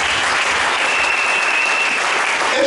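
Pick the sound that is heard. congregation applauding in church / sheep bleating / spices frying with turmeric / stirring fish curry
congregation applauding in church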